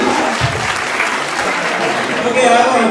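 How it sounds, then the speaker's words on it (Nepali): Applause welcoming a speaker onto the stage at a community association's annual gathering, a steady dense clapping from an audience that holds for several seconds. "उहाँलाई एकचोटि जोरदार तालीको साथमा स्वागत गरिदिनु होला।"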